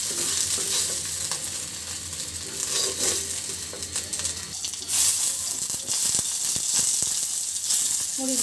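Dried red chillies fry in hot oil with a steady, close crackling sizzle that runs throughout, broken by occasional stirring scrapes and sharper pops.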